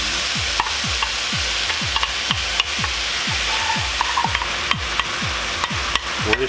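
Teriyaki chicken from a HART frozen meal is stirred and coated in sauce in a hot pan: a steady sizzle with a regular, rhythmic series of soft scraping stirring strokes, close and fairly loud, no talking.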